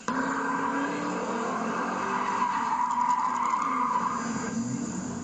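Drag racing cars in Bishkek, a continuous loud engine roar with tire squeal and skidding that rises and falls slightly over the run.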